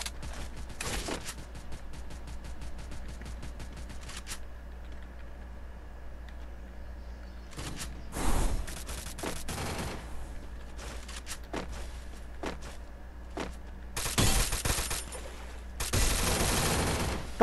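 Gunfire in the Free Fire video game on an emulator: scattered short bursts and single shots over a quiet hum, with a few louder volleys near the end.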